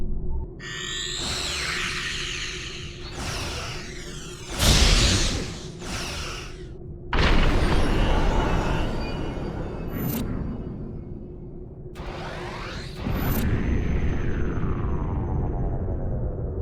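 Star Trek Online space battle: a weapon fires with sweeping energy tones and sudden loud blasts and explosions, interspersed with swooshing sci-fi effects and a constant low hum.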